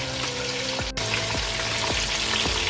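Fish pieces for a fish curry fry in a pan, giving a steady close sizzle with water-like hiss and a few soft clinks or knocks scattered through.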